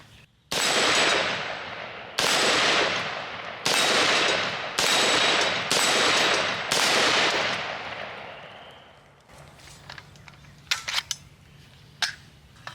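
Five loud, close gunshots ring out one after another at steady intervals, each with a long fading tail, aimed at steel plate hostage targets at 30 yards, followed by faint sharp clicks and knocks.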